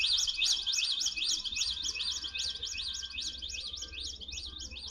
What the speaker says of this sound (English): I'm hitting it and I know it's not an actual bird tweet